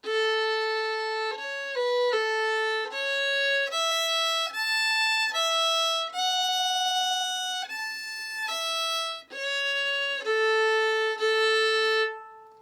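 Solo fiddle playing the second half of the A part of an easy traditional tune, clear sustained bowed notes in a steady sequence of changing pitches, close and loud, with no talking.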